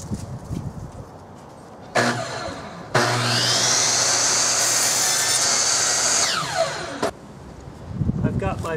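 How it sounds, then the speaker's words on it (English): A chop saw cuts cedar boards for a vegetable box: the motor spins up with a loud whine, bites through the wood for about three seconds and then winds down. Lighter handling noises come before and after the cut. "I'm using my chop saw here so I have nice clean cuts"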